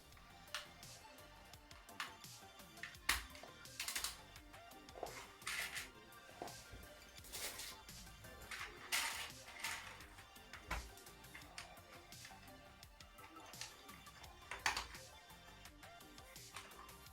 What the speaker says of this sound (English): The next best thing is to correctly reattach the keyboard keys.